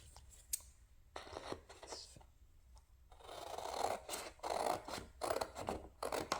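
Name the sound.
cutting out a printed cardstock button card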